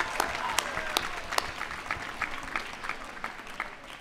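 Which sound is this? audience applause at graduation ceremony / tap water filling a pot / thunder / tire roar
audience applause at graduation ceremony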